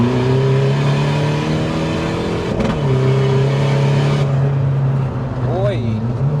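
A tuned Skoda Fabia vRS engine runs loud and close with a popcorn limiter map, holding at high revs with a brief dip and crackle partway through, while people talk over it.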